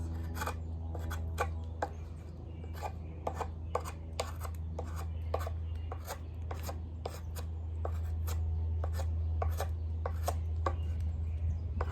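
Repeated sharp chopping strikes of a Demko Freereign MagnaCut knife into very hard wood, irregularly spaced, over a low steady hum.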